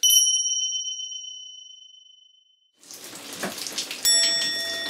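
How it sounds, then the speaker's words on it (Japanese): Rainwater leaking through the ceiling pours and drips inside a room of a newly rented house. A ringing chime fades into silence, then close, irregular splashing drips and trickling water continue. "一部屋滝のように雨漏りするから"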